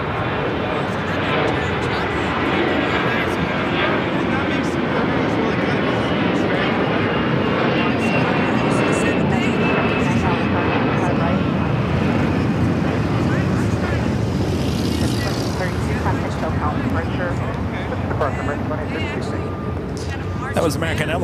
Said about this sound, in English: That was American Airlines Flight 2832 heading to Dallas, Fort Worth, Texas on the A321.